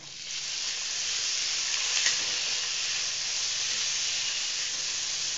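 Soybeans dropped into hot oil in a kadhai set off a steady, fairly soft sizzling hiss that swells at the start and then holds evenly, with no voices.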